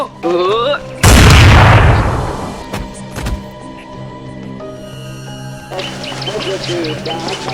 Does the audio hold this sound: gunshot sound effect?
yes